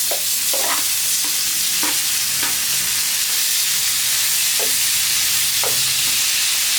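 Fresh prawns frying in a pan, a steady broad sizzle running throughout with repeated scraping stirs at irregular intervals, close and fairly loud with no talk.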